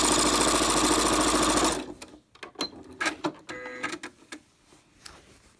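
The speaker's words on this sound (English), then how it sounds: "here I'm just going to sew a couple inches, and then I'm going to stop" A sewing machine runs steadily for a couple of seconds, stitching the seam of a baby burp cloth, then stops. Scattered light clicks and handling noises follow, with no talking.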